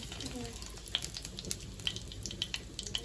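Bay leaves fry in hot oil with a faint, close sizzle, broken by a few sharp spatters and small clinks. Light background noise runs underneath.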